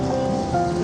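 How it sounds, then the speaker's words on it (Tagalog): Rain falls steadily around a street market stall, a soft continuous wash of patter, fairly quiet and brief, with no clear voices. "Te, grabe, ulan."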